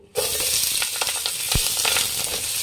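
Onion, green chilli and curry leaves dropped into hot oil in a pan: a sudden loud burst of sizzling that settles into a steady, crackling fry with occasional stirring scrapes and one low thump.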